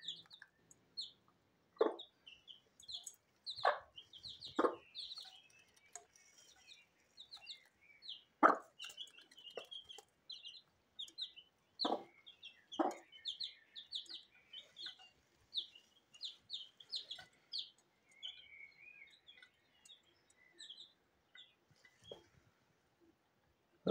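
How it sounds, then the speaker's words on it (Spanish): A hen clucks while her chicks chirp, with a few low clucks and a steady stream of high, quick peeps, close and fairly faint in a quiet spot. "Mira qué bonito los pollitos."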